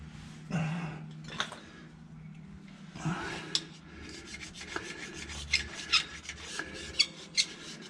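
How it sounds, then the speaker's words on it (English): Scraping leftover gasket material off the sealing face of an Allison 3000 transmission being readied for reassembly: a run of rough, rasping strokes with sharp scratchy peaks, close and moderately loud, no talking. "Scrape around it just to make sure."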